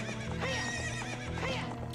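A horse in Zelda: Ocarina of Time whinnies loudly and close, with the steady clip-clop of hooves running underneath.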